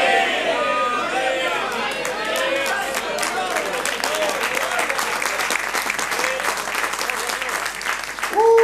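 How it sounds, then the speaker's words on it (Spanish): A church congregation applauds steadily with dense, sustained clapping from a sizeable crowd, joined by scattered voices and a few cheers, rising slightly near the end. "Qué poco aplauso, hermano."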